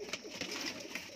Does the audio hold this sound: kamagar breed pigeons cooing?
yes